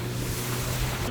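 Jet ski out on open water on a sunny boat day, a steady loud engine hum with water rush and wind buffeting the microphone, no talking.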